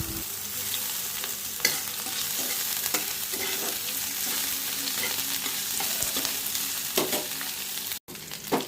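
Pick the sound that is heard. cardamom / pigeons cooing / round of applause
cardamom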